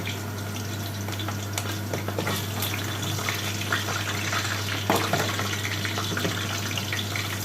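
Eggplant slices sizzle in hot oil for moussaka, a steady dense crackle and hiss throughout with occasional sharper pops and spatters, close and continuous with no talking.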